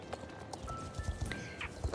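A horse in the online game Star Stable Online gives a few soft clip-clop hoof steps and a brief whinny, fairly quiet and close, with no talk over it.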